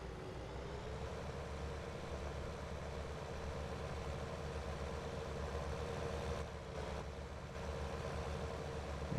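Tractor engine idling in the video game Farming Simulator 19, a steady low rumbling drone that holds constant throughout with no talking, moderately quiet and even.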